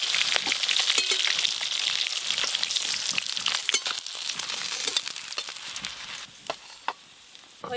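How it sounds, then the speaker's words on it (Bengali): Cut eggplant, salted and coated in turmeric, frying in oil already used to fry fish: a close, continuous hiss dense with sharp crackles and pops, easing slightly near the end. "ওই মাছ ভাজার তেলে এবার বেগুনগুলোও ভালো করে ভেজে নেব"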